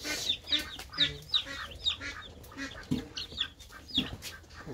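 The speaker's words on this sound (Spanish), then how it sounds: "Ya le diste comida a los pollitos." Young chicks fed growing concentrate and yellow maize cluck and peep in a repeated, fairly close series of short calls, with no talking over them.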